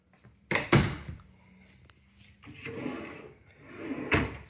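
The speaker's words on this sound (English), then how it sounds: "Slow closed drawers." Soft-close kitchen drawers slide shut with a couple of muffled thuds and low rumbling glides, close and fairly quiet, in a house interior.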